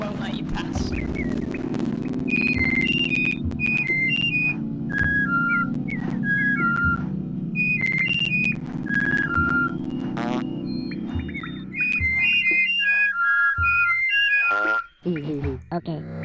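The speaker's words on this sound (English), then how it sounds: "those guys, by the way, that whistle at you, they're whistling a code" Short melodic whistled code from a character in the Oddworld: Abe's Oddysee video game, several rising and falling whistle phrases repeating over a steady droning game ambience, fairly loud and close.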